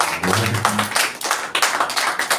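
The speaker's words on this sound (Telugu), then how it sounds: "చప్పట్లు కొట్టండి" A church congregation clapping hands during a Telugu sermon, a dense, continuous burst of many hands clapping together, loud and close-filling, with a low voice briefly audible at the start.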